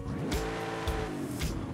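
A car engine roars steadily in Forza Horizon 5, a harmonic revving drone with brief tire squeals, close and loud, sounding like a Lamborghini.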